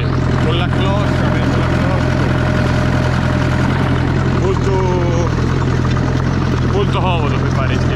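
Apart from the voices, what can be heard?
New Holland tractor engine running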